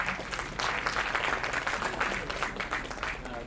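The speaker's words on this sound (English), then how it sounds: "A huge round of applause for Chayatri." An audience claps for a Sufi and folk music performer at a university event, sustained applause at moderate distance, fairly soft and even, with faint voices mixed in.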